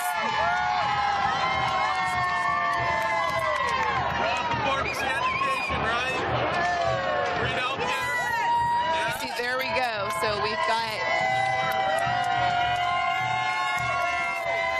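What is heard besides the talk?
crowd cheering at a charity walk in San Francisco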